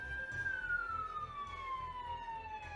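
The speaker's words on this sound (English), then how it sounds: "Oh my god, that ambulance is right there." An ambulance siren passes outside, its wailing tone steady and loud at first, then slowly falling in pitch as it goes by, with low rumble beneath and no talk over it.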